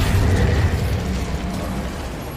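Incendio fire spell cast in the Hogwarts Legacy video game: a loud whooshing burst of flame with a low rumbling body that fades over a couple of seconds, with no talk.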